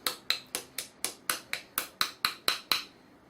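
Eleven sharp, evenly spaced hammer blows flatten an oak dowel pin on a pump drill rig, each ringing strike decaying quickly before the next, loud and close, then quiet.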